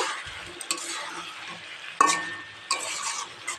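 Egg and potato being stirred in a frying pan with a steady background sizzle, a utensil scraping and clinking against the pan in a few sharper strokes, close and moderately loud, with no talking.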